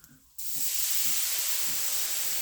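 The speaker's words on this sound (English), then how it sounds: "now this is going to steam up, so just be careful." Steam hisses loudly and steadily as water is added to a hot frying pan of flour and fat while making gravy for fried rabbit, bursting in suddenly and holding as a broad, close sizzle.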